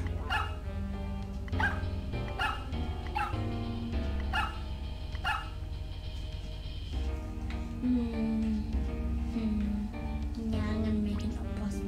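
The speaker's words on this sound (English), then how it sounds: "You can use the dog to undo, by the way." The Undo Dog effect in the Super Mario Maker video game gives a string of quick, cartoonish barks and yips over steady game music.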